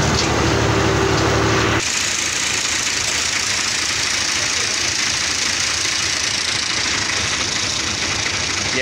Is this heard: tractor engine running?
yes